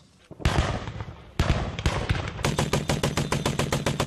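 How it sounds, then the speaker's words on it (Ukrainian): Rapid bursts of loud gunfire at a military training range, ending in a fast string of evenly spaced shots, sharp and close with ringing echoes. "Звуки пострілів на полігоні не стихають."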